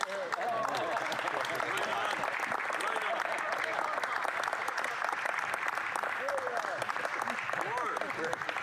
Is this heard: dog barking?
no